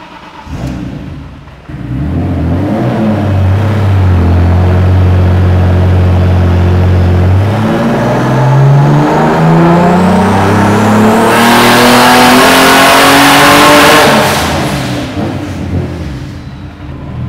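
A BMW M3 engine on a tuning pull roars loudly up close, idling briefly, then sweeping upward in pitch through a long full-throttle climb before backing off.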